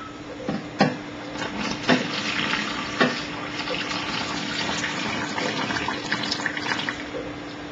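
Water poured into a bread dough mixture alongside hydrogenated vegetable shortening for Syrian bread, a continuous splashing pour with a few sharper bursts, steady and fairly close throughout.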